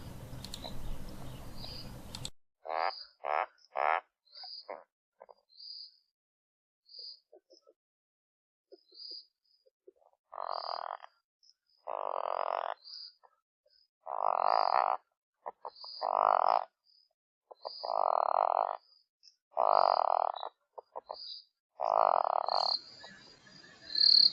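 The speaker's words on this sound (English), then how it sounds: "A couple of male toads." Male toads croak in a series of loud, buzzy trilled calls that come in repeated bursts with short silent gaps, close by, and no one speaks.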